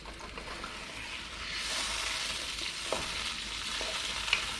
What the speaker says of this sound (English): As soon as it comes to a boil, I'm going to reduce it down to a bare simmer.